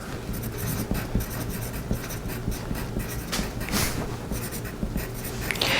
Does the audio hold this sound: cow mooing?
no